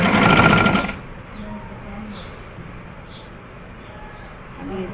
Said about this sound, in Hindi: अब ये देखिए ये उल्टी साइड से हम सिलाई लगा रहे हैं।